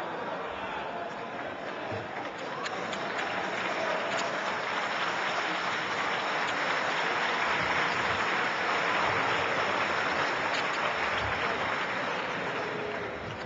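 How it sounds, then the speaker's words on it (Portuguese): Applause from Socialist Party members in the Portuguese parliament, a dense continuous clapping from many hands that runs steadily through the whole stretch. "Assistir a palmas do Partido Socialista... está a ser aplaudidíssimo."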